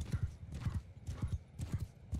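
Horse hooves clip-clopping in Mount & Blade II Bannerlord, a brisk repeating galloping rhythm of paired thuds, close and clear, with no voices over it.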